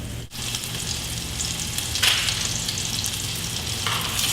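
Food frying in oil in a pan, a steady, close sizzle with a few brighter crackling bursts, and no voices.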